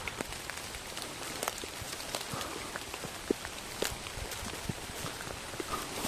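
Heavy rain pouring on Mount Arjuno, a dense steady hiss of drops striking surfaces close by, with scattered sharper spatters throughout and no voices.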